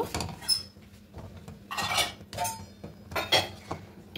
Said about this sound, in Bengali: এবার বাতাসা দিয়ে খুব ভালো করে এটাকে মিশিয়ে নেব।